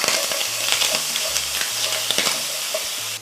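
Homemade red sofrito hisses and sizzles steadily in a hot pan, with a spoon stirring and scraping at close range, crackling bursts scattered over the continuous fry.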